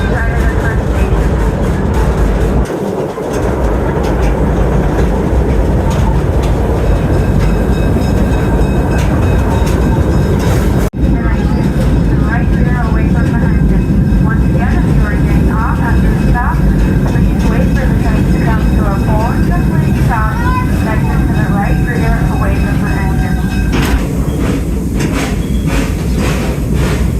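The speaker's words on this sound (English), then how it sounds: "as the train goes around the bend" A zoo train rumbles around a bend, with a steady loud rolling roar and rattling wheels; a voice talks over it throughout.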